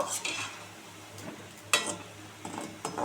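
Homemade ledikeni sweets frying in a pan, a steady soft sizzle broken by sharp clinks and scrapes of a utensil stirring at close range, with no talking.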